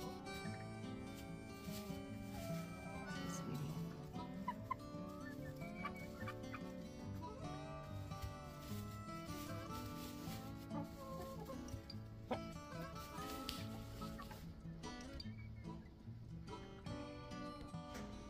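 A flock of backyard chickens clucking and calling steadily and fairly close, a dense, busy chorus of overlapping bird voices with no pauses.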